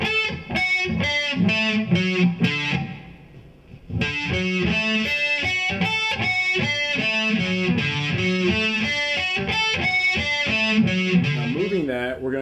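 A distorted electric guitar rolls through slow-practice neoclassical sweep-picked arpeggios, notes tumbling up and down in a steady stream, with a brief dip in the middle.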